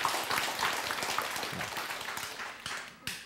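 Lecture audience clapping in a hall, a steady wash of applause heard from a distance with a brief voice mixed in, tapering off and then briefly picking up again at the end.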